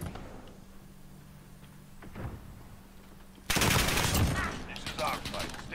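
Gunfire in Call of Duty Modern Warfare Team Deathmatch: a quiet stretch with faint clicks gives way to a sudden loud burst of rapid automatic fire that rattles on for a couple of seconds.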